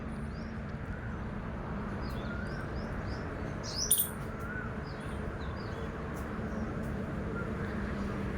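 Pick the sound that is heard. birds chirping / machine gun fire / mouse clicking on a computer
birds chirping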